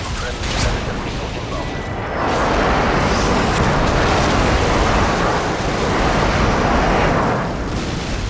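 Predator missile explosion in the video game Call of Duty Modern Warfare 2, a loud, dense rumbling blast that swells and holds for several seconds, filling the mix like a roaring eruption.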